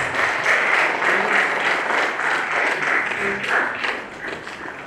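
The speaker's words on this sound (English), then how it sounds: "Big round of applause." A big round of applause from the audience at a university MOU signing ceremony, with many hands clapping in a dense, even wash that stays fairly loud and eases off slightly toward the end.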